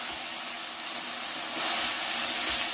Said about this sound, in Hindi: सब्जी ना अच्छे से फ्राई हो गई है